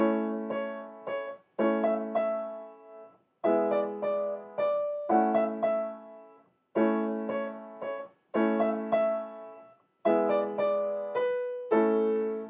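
Piano chords repeat in short groups with brief pauses, the low hand shifting between home and fifth chords in a steady cadence pattern, clear and alone.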